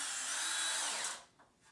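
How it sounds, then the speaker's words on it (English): A power drill drives a screw into a wooden rig, a close, loud steady whir for about a second that winds down as the screw seats, with a faint knock after. "Just screw it right down. And run screws all the way up and down this rig."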